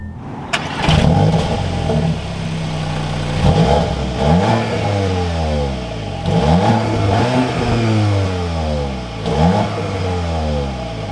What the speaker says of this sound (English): let's fire up this S3 with that S Sport exhaust and take a listen to how it sounds